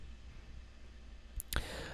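Two quick, crisp computer mouse clicks, close and isolated, as a button is pressed in ProPresenter 7 presentation software, with faint room hiss around them.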